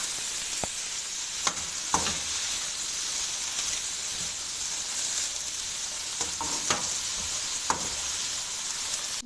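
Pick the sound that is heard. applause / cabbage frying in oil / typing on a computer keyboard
cabbage frying in oil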